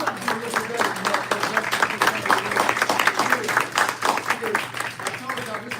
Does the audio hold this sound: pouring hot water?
no